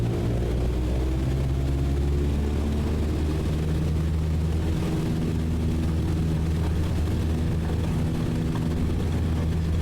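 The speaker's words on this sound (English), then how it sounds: "That's our runway for takeoff, and power, and off we go" Aircraft engine in Microsoft Flight Simulator spooling up for a takeoff roll, a steady loud low roar with layered droning tones held throughout, no voices.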